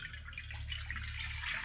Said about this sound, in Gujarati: એક લોટો અને એક પાલું ભરીને પાણી એડ કરીશું.